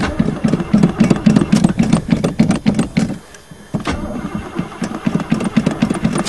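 A Chevy four-barrel 305 V8 cold-starts on a winter day, cranking and catching into a rough, loud idle. It cuts out briefly, then fires again into a steady running rumble close by.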